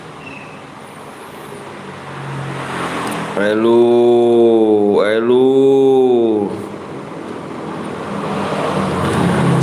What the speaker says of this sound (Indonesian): Iya suaranya itu suara motor tuh.